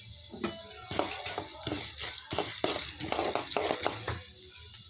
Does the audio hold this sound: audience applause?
no